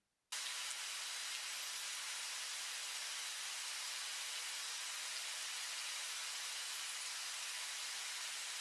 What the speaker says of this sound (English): this is what I turned it into using this chain of plugins down here. An Effectrix, an auto filter, and a simple delay plugin.